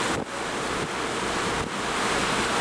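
Ocean waves rolling in a long, gentle swell heard from the deck of a cruise ship off Chiloé, Chile, a steady broadband wash with wind buffeting the microphone, continuous and close, with no voices.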